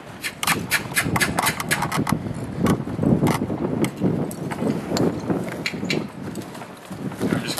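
A horse moves around a round pen, its hooves striking the ground in a steady, fairly close clip-clop rhythm that continues throughout with no talking.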